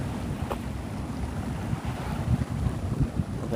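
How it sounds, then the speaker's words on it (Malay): Strong wind buffets an outdoor fishing spot, a constant loud rushing roar with gusty low rumbling and no speech over it. "Angin kuat. Angin kuat."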